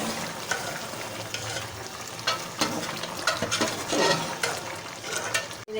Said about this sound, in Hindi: ये देखिए गोभी गोश्त हमारा भुन रहा है।